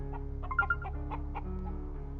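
A chicken in a dungeon crawler video game, giving a short series of soft, quick clucks over a steady low background hum and faint music tones.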